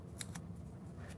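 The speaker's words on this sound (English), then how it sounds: "Gotta find the sweet spot on my scissors." Two quick, crisp snips of scissors cutting paper close up, followed by a faint third snip in a quiet room.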